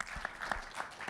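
An audience claps and cheers through a live event, the applause steady and crowd-wide with brief louder bursts standing out.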